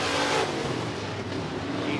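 Sportmod race cars roar around the Interstate Speedway oval in a loud, continuous, broadband engine wash, with one car surging close at the start before the pack noise settles into a sustained drone.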